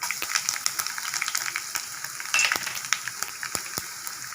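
Garlic sizzles and fries in hot oil for a beetroot poriyal, a steady close crackle with quick stirring scrapes running throughout and no talk.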